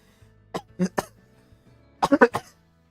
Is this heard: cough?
yes